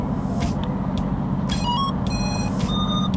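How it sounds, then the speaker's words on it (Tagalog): Electronic buzzer of an E88 EVO budget drone beeping in short tonal chirps and rising tone sequences, clear over a steady low rumble of background noise outdoors. "Ayan, ganda ng buzzer."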